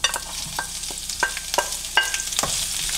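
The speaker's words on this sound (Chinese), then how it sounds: "我们现在开始炒菜哈，这锅里头先放油，这个因为是素菜，你可以放的稍微多点。我们先炒辣子" Hot green peppers stir-frying in oil in a wok for a cumin gluten dish: a constant sizzle broken by several sharp spatula knocks and scrapes against the pan, close and unaccompanied by speech.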